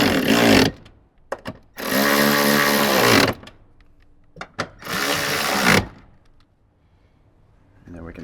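Power tool tightening down an amplifier bracket during an install in a Toyota Tundra, heard as two long, loud whirring runs with short bursts and clicks between them, up close.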